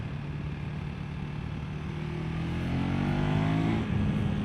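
A KTM Adventure 390 R motorcycle engine hums and then rises in pitch as it accelerates through curves, steady and close, with a brief dip near the end like a quick-shifted gear change.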